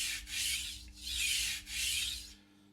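Three long, even strokes of a kitchen knife drawn across a sharpening stone, a steady rasping scrape swelling and fading with each pass, close and alone, ending in silence.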